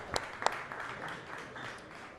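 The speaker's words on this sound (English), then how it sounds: "One more round of applause, please." Brief applause at a Solana Consumer Day event in the USA, a couple of sharp claps followed by a soft, fairly distant patter of hands that stays faint throughout.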